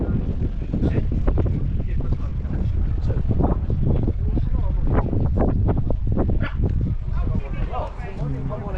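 Strong gusts buffet the microphone outdoors at a Vauxhall car show, a loud rumbling roar throughout while someone talks over it, easing slightly near the end.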